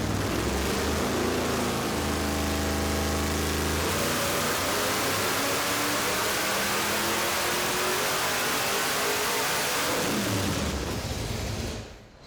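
A 1970 Dodge Super Bee engine runs on a dyno, climbing in a long, loud, sustained rev up to 7,000 RPM, its harmonics rising steadily before it drops off sharply near the end.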